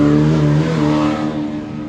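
A 1600 off-road buggy race car driving through the start-finish over tabletops at the High Desert 100 in Powell, Wyoming, a loud engine drone that sweeps past and gradually recedes, with no talking.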